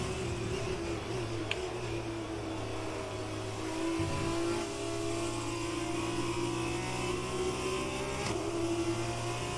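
Formula 1 car engines in the F1 2020 racing game, a sustained high engine whine with shifting pitch and a couple of gear changes, racing near a hairpin, steady and moderately loud with no talk.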